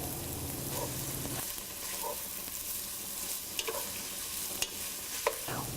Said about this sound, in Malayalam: ഒരു പാത്രത്തിൽ ആവശ്യത്തിന് എണ്ണ ഒഴിച്ചതിന് ശേഷം ഇതിലോട്ട് കട്ട് ചെയ്ത് വെച്ചിരിക്കുന്ന സവോളയും ആവശ്യത്തിന് ഉപ്പും ഇട്ട് വഴറ്റുക.